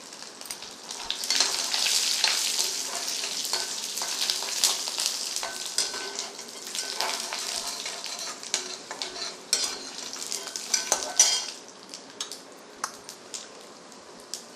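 Dried red chilies dropped into hot oil for tempering, crackling and hissing loudly at first, then settling into a quieter sizzle with light clinks of a spoon against the pan.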